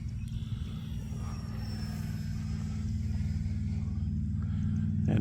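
A small FMS Zero 800mm RC plane flies at part throttle, its electric motor giving a steady, fairly loud whine and buzz that swells slightly toward the end.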